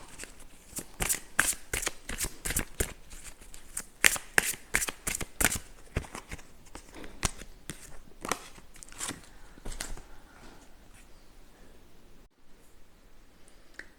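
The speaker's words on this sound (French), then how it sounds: "je vous ferai un tirage de cartes de synchronicité" A deck of oracle cards being shuffled for a card reading, with rapid riffling bursts that repeat in quick succession, close and fairly loud, then trail off into quieter handling near the end; no talking.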